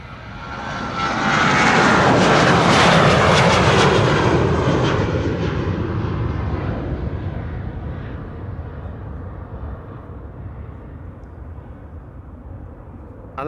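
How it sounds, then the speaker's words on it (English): A KLM Boeing 737-900 bound for Edinburgh passes at Schiphol with a jet roar that swells quickly, peaks close by after a few seconds, then slowly fades into a distant rumble. "737-900 to Edinburgh in Scotland."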